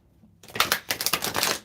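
A deck of cards being shuffled: a quick run of riffling flutters and soft snaps that starts after a silent moment, close and fairly loud.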